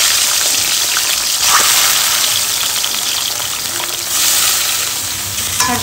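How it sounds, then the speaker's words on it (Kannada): Prawns shallow-frying in oil in a pan produce a loud, dense sizzle that hisses steadily throughout, swelling briefly twice with no talk over it. "ಪ್ರಾನ್ಸ್ನ ಸ್ವಲ್ಪ ಶಾಲೋ ಫ್ರೈ ಮಾಡ್ಕೊತಾ ಇದ್ದೀನಿ"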